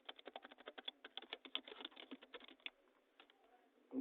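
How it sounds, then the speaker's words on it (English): Quiet, rapid clicking of fingers typing on a computer keyboard comes in a fast, dense run of keystrokes, then thins to a few scattered taps. "So you type the name in there again"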